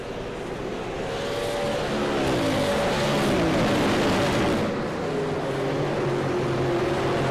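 Race cars roaring around an oval track in a SARA Pierce Fleet Super Series night race, engines blending into a loud continuous drone with rising and falling pitch sweeps as cars pass close by.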